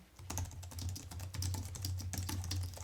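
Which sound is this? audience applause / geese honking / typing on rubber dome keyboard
typing on rubber dome keyboard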